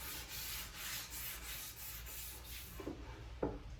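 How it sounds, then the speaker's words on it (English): Light sanding of a walnut end grain cutting board: steady, rhythmic rubbing strokes of abrasive on wood, close and continuous, with a couple of sharper scrapes near the end. "we're going to do some light sanding on this"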